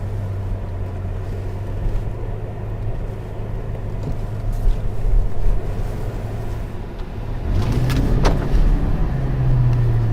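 A 2021 Aston Martin DBX with an AMG-derived 550-horsepower V8 pulls away and drives downhill. A steady, close engine drone swells as the revs climb partway through, with no talk.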